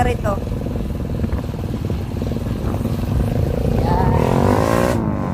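Motorcycle engine running steadily while riding, a continuous near drone with rising pitch toward the end, under people talking.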